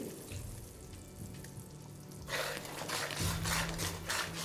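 Potato and cauliflower curry with salt and whisked sour yogurt sizzles in hot oil, a low frying crackle that swells sharply into a loud, steady hiss about halfway through, with no talking.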